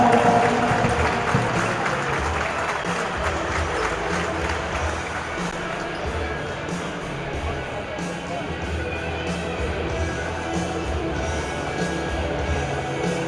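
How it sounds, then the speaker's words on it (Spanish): Loud, dense applause from a crowd at a charity basketball game, sustained and fairly even throughout, with crowd noise mixed in. "Un fuerte aplauso para ellos también, por favor."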